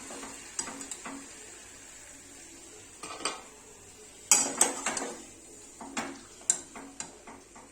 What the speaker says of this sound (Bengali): ললিপপগুলো প্লেটের মধ্যে ঢেলে নেব